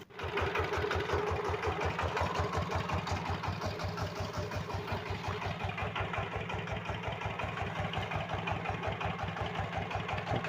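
A small homemade walk-behind tractor engine runs steadily at a fast, even putter, loud and close, with no one speaking.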